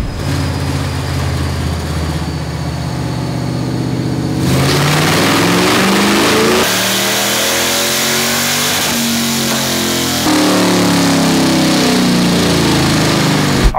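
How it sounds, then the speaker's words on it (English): Ford 7.3L Godzilla V8 swapped into a Fox Body Mustang on a dyno with open headers, loud and close, idling then ramping through a long rising pull with gear-like pitch sweeps and no talk. "So we just made a pull with open headers."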